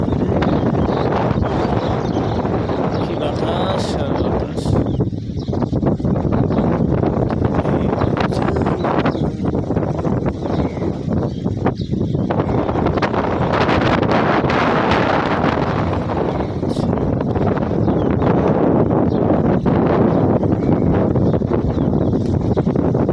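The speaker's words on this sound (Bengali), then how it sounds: "কি বাতাস," Strong wind buffets the microphone outdoors at a duck-rearing spot, a loud continuous roar of gusts that persists for the whole stretch with no voices.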